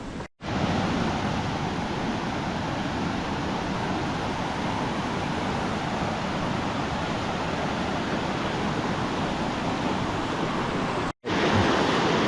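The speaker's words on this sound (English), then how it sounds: "Water's running great." Water rushes steadily in a mountain creek in Taylor Canyon on the Malans Peak trail, a loud, continuous broadband roar with no break except two brief dropouts.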